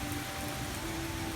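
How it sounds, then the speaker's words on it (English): Steady rain falls outside during a lightning storm, a dense, even hiss of drops on surfaces that continues without a break for the whole moment, with no voices. "It's raining"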